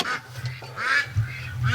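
Muscovy ducklings call in a run of high, close peeping quacks, loud and clear against a low background hum.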